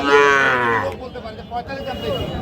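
Cattle at a livestock market in Ambari, where Sahiwal bull calves are sold, give one loud, drawn-out moo near the microphone, then fainter market noise and low voices follow.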